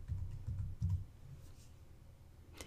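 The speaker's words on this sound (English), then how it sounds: "Click on your workspace where you want the title to go and begin typing the word for your title." Several soft key clicks on a computer keyboard come in a quick cluster near the start, then the room falls quiet except for one brief tap near the end, all faint and close.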